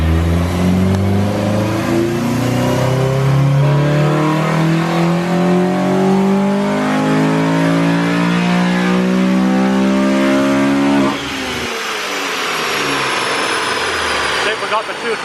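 A Honda Civic Si engine with a throttle body spacer revs up through the gears on a dyno, a loud, rising engine roar that climbs steadily for about eleven seconds before dropping off and winding down.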